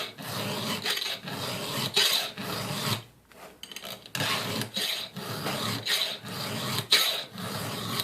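A hand file sharpening a chainsaw chain after it struck a rock while cutting firewood, producing close, rhythmic rasping strokes of metal on metal, about eight in a row, with a short break partway through.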